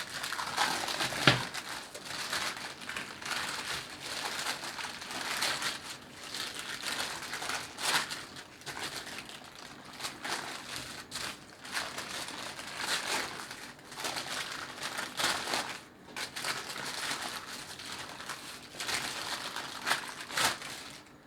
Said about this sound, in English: take the parchment paper and knead it